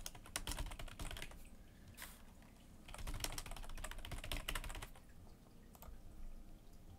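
Soft computer keyboard typing runs in a quiet, uneven patter of key clicks as information is entered during business email account setup, close but faint, with no talk.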